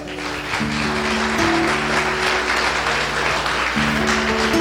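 A church congregation breaks into steady applause, a dense wash of clapping under a sustained musical drone, loud and continuous throughout.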